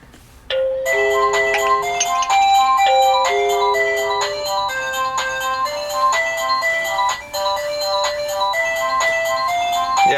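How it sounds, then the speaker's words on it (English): The indoor chime of a Meco Eleverde model J5 smart video doorbell plays its third melody, a lively stream of bright electronic bell notes that continues for about ten seconds at steady volume, with no voices. "If I go to chime number 3,"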